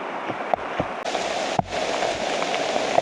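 Steady rain hissing down on a surface in the countryside of Thailand or Laos, with a few heavier drips and knocks standing out against the continuous wash.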